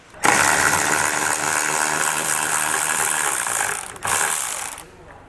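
A ratchet with a T25 Torx bit backs out taillight bolts on a 2022 Audi Q8, giving a loud, steady, fast clicking run close by, a brief pause, then a shorter burst before it stops.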